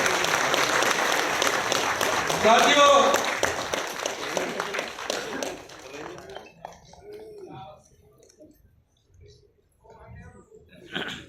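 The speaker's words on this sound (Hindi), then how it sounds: "हम तालियों के साथ फिर से उनका स्वागत करते हैं।" Crowd applause welcoming a guest at a BSP political event, loud dense clapping at first that thins and fades over several seconds, with a few scattered claps and murmurs trailing off.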